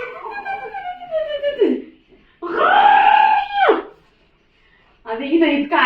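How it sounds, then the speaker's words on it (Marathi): People shout and scream loudly in a crowded home with guests, three long wailing bursts separated by short pauses. "आता इथं इतका आरडाओरडा चालू आहे ना"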